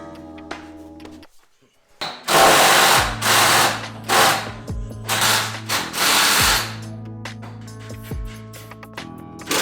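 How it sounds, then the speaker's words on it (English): A pneumatic impact gun hammers out subframe bolts under a BMW E36 in several loud, close rattling bursts, separated by brief pauses and ending in quieter clicks. "I'll go ahead and use my impact gun to get the rest of the way out very carefully"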